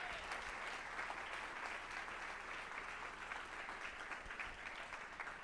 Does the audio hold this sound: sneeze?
no